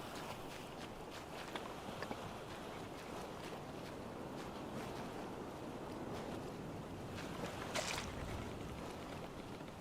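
Boat sailing across open ocean in the survival video game Survival: Fountain of Youth, with a steady wash of waves and wind, faint creaks and a few soft knocks, continuous and moderately distant.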